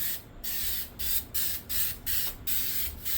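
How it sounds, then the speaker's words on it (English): Rhythmic bursts of 3M Super 77 spray adhesive being sprayed onto a backboard to attach cloth while restoring a 1940s/1950s RCA Victor radio: about seven hissing sprays in a row, each broken by a brief pause, close and steady. "We're going to use the 3M Super 77 spray adhesive to attach the cloth"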